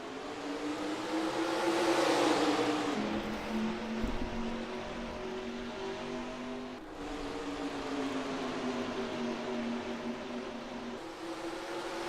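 Engines of a field of NASCAR stock cars in the NASCAR Racing 2003 game rising together at the green flag, a loud droning whine that climbs in pitch, dips with a gear change and then holds steady, with no talk over it.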